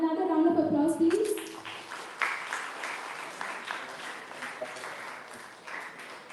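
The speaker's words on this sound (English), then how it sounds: "So another round of applause, please." Audience applause at a hackathon community event: a sustained patter of many hands clapping, moderately loud, following a brief voice or tone at the start and slowly thinning out.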